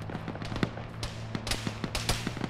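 Gunfire in Arma during a ShackTac session, a string of sharp cracks and pops at irregular intervals, some distant and faint, a few louder shots standing out over a low steady background hum.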